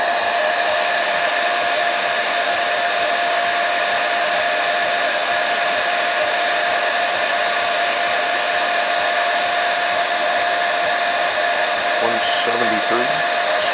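A heat gun blows hot air steadily and loudly at close range onto a Spektrum AR500 RC receiver during a heat test, with a constant whine and rushing airflow throughout and a few faint, brief tones near the end.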